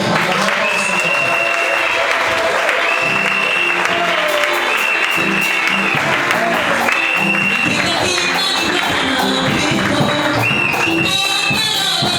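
A congregation applauds at a church consecration and confirmation of ministers, with a dense, steady wash of clapping running throughout, mixed with voices and crowd noise.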